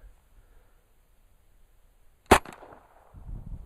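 A Thompson 1927 A1 Tommy Gun fires a single sharp, loud shot after near silence, followed by a short ringing tail and some low rustling.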